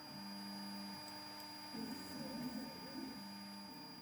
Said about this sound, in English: here we start the engraving pass on the wenge version